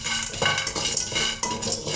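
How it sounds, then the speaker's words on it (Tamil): Cinnamon, star anise and cloves dry-roasting together in a hot pan, with close scraping and stirring of the spices against the metal, loud and continuous with brief clinks. "இதை மூணுமே நம்ம ஒன்றா ஆட் பண்ணி நம்ம வறுக்கிறோம்"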